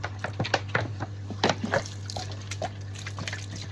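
Water from a motor pump fills a container, splashing and trickling in uneven bursts over a steady low motor hum, close by.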